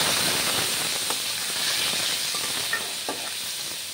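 Small fish crackle and hiss in hot oil in a kadai, a steady bright sizzle with occasional pops, fairly close and moderately loud, with no talking.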